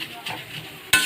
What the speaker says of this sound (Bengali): একটু ডালটা ভাজা ভাজা হোক